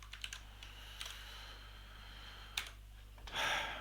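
Keystrokes on a computer keyboard, a few sparse quiet clicks in a short burst, then a single louder tap and a brief rustling clatter at the end, close and alone in a quiet room.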